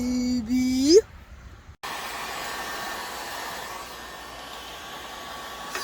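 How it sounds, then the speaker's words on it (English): A hot-air heater blows a steady, loud roar across PVC pipe to soften it, starting after a brief tonal hum and a short silence and continuing evenly to the end. "So I'm just going to heat the PVC up to the point that it is flexible."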